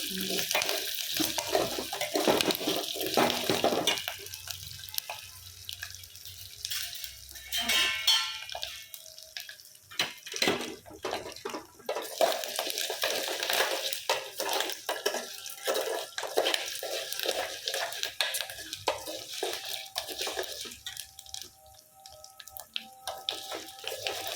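Water is poured into a pan over a curry-leaf tempering while cooking Rayalaseema-style fenugreek lentil dal. Running, splashing water continues for a long stretch with brief utensil clinks.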